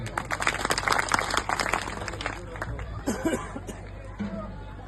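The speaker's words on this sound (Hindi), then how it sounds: "जोरदार तालियां।" Loud applause fills a public meeting, mixed with crowd chatter and babble, strongest early on and then thinning into murmuring voices.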